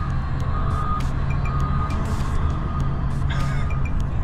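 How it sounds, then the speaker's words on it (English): Steady reversing alarm beeps from a forklift moving cars at a Copart salvage yard, repeating over a constant low diesel engine rumble and yard noise, no talking. "They're just forklifting the cars on this thing."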